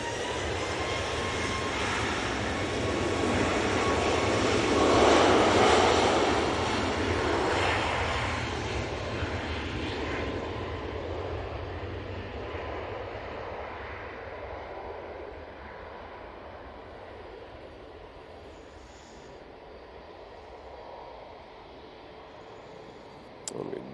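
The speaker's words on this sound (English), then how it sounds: "We do have the Hainan A330 coming in from Peking" A Hainan Airlines Airbus A330 lands at Manchester Airport, its broad engine roar swelling to a peak and then slowly fading into a low rumble, with no talk over it.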